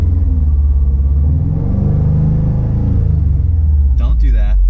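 Inside a 2017 Subaru STI, the engine hums and revs in a loud, low, steady rumble while the clutch is held half engaged, with a brief rise near the end; a voice talks over it.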